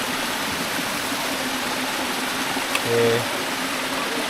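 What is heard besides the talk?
mountain stream water flowing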